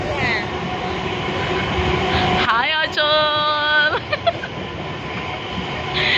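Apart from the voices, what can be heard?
train arriving at station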